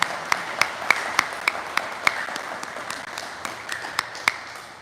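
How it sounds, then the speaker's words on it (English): Scattered hand claps from a small group at a county summer camp kickoff event, sharp separate claps falling in a steady, uneven rhythm over quiet room tone, with no voices. "Let's give Mark a round of applause."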